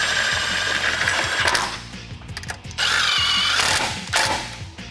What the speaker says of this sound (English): to tighten this down, you're gonna use your 13mm socket